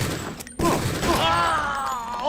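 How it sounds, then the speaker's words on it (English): A sniper rifle fires in a video game, a sharp loud blast that cuts through busy game audio, followed by continuous dense background sound. "Oh, that was my sniper rifle."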